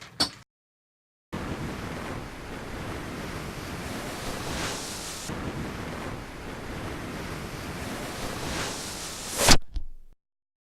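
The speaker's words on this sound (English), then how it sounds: "the wind is definitely increasing over here." Strong tornado-storm wind roars continuously as a heavy broadband rush buffeting the microphone, starting abruptly after a brief silence and cutting off at the end after a louder gust.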